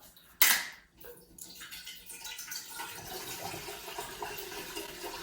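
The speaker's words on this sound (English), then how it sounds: "So what I have here is 96 ounces of apple juice. We'll get that added to the pot." Apple juice, 96 ounces, poured into a pot to make a turkey brine, starting with a sharp splash and settling into a steady, close liquid pour that runs on without talk.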